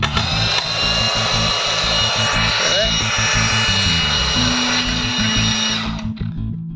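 Milwaukee 18V deep cut band saw set up as a portable upright table saw, running steadily up close with a continuous high-pitched motor whine and blade hum for several seconds, tapering off near the end.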